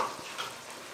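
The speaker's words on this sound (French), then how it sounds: "je mélange jusqu'à ce que je sois sûre que ça va cuire sans que ça se colle" Spaghetti is stirred in a cooking pot in a brief, soft scrape and bubbling sizzle lasting about a second, with no voices.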